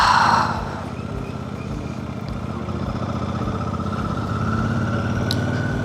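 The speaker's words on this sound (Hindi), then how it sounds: "मैं हेलमेट खोल रहा हूँ जिससे आपको थोड़ा सा बाइक का साउंड ज़्यादा आएगा।" A motorcycle engine drones steadily while riding on a scenic mountain road in Jammu, the sound coming through an open helmet as a continuous close hum, with no talking.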